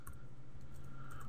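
Someone types a router command on a computer keyboard, producing a short burst of close, soft key clicks with no talking.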